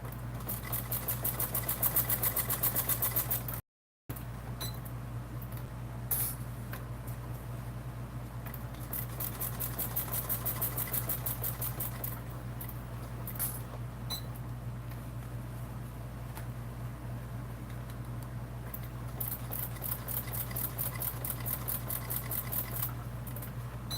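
A sewing machine stitches a seam on a Swoon Maisie bag, running steadily with a constant mechanical hum and rapid needle chatter, with one brief pause early on.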